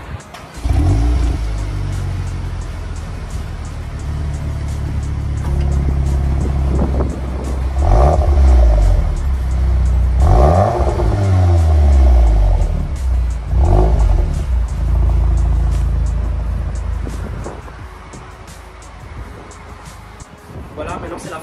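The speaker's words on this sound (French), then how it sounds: "je vais vous faire écouter donc le bruit d'échappement Akrapovic" A VW Golf 8R with an Akrapovic exhaust, 320 horsepower, idles low and then revs repeatedly, the engine rising and falling in several loud, close sweeps before settling back down.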